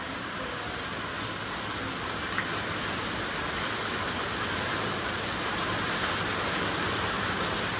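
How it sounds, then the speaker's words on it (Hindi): Heavy rain pours down steadily as a dense, even hiss of drops on surfaces, unbroken for the whole stretch with no voices. "बारिश तेज है।"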